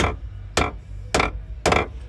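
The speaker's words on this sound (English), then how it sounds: "it's going in really easy, just the weight of the hammer" Four sharp metallic hammer taps on a Chevy OBS door hinge pin at an even, unhurried pace, each ringing briefly, with a low hum underneath.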